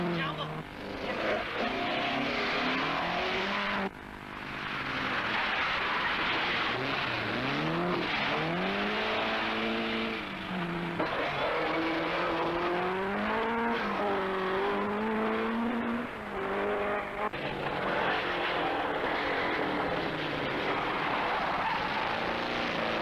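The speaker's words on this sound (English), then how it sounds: "Brookes charges up to us with a puncture" A rally car at the 1981 Cork 20 Rally, running with a puncture, roars past with rising and falling engine revs and gear changes, loud and sustained, while a commentator talks over it.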